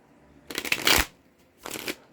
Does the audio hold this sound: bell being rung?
no